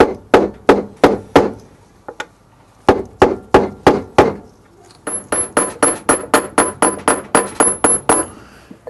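Metal bolt tapped against a front-load washing machine bearing to drive it into its housing: a steady series of sharp, close metallic knocks, a dozen in the first half, a short pause, then a faster run of ringing strikes.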